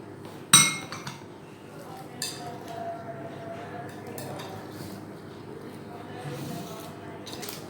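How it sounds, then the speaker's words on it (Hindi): A fork mixing creamy fruit chaat in a bowl, with one sharp clink near the start, then quieter scraping and stirring, under faint background sound. "इसको कांटे से मिक्स करना है।"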